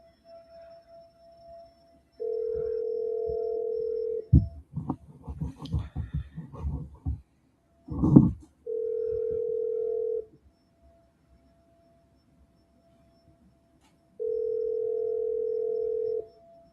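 A phone line ringing while calling an agent, long steady tones that repeat in spaced bursts, broken up by a few clicks and clinks from handling the phone in a quiet room.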